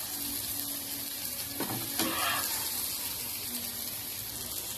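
Eggplant and pointed gourd fry together in a pan, giving a steady, moderate sizzle with a couple of brief stirring scrapes midway, no talk over it.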